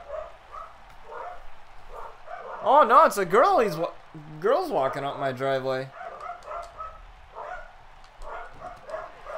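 Several pet dogs bark excitedly indoors at a delivery person coming up the driveway, loud bursts of barking in the middle of the clip while a person talks nearby.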